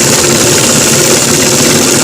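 A sewing machine runs steadily while stitching a shirt collar, a continuous close, loud mechanical whir and rapid rattle that holds unbroken throughout with no pauses.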